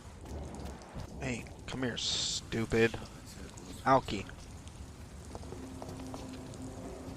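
Rain falling steadily in the Vampyr video game, a soft constant wash beneath several voices talking and brief game effects.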